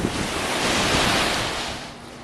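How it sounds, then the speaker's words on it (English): Ocean surf rolls onto Anna Maria beach in a broad, continuous wash of breaking waves with some wind rumble. The sound swells slightly in the middle and holds throughout, with no voices. "just watching the surf is the best vacation ever"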